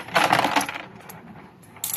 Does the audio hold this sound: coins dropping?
yes